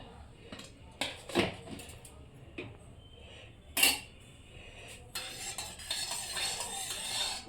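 A metal karai is set down on a kitchen stove with a few clanks and scrapes, separated by quiet gaps and followed by a soft hissing rustle, with a voice faintly audible in the background.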